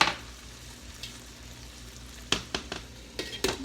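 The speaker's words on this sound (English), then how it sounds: "we're going to let this sit on the stove and let it kind of simmer" Green bean stroganoff simmering in a pan on the stove, giving a low steady sizzle with a few sharper crackles and pops near the end.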